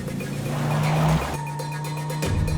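A car drives along with its engine humming steadily. The tone shifts as it changes speed, with road noise under a tense scene.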